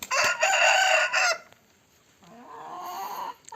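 An Indian breed rooster crows loudly nearby, a long strained call, followed after a short pause by a softer, lower second crow.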